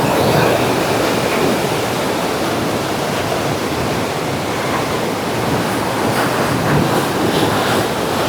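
Thirumoorthy Falls in a forest near Tiruppur roars as a steady, loud wash of falling water that fills the whole clip without a break. No voices are heard.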